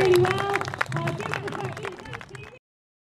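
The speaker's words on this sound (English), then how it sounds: "So let give a big round of applause." An outdoor crowd at the Will Adams Festival in Gillingham, 2018, gives a round of applause: scattered sharp claps and cheering voices, fairly close, fading slightly before stopping abruptly into silence.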